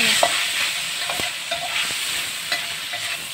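Salted fermented meat frying in a pan for a Taiwanese dish, with a steady sizzle broken by a few sharp stirring scrapes and clicks, close and moderately loud, no talk.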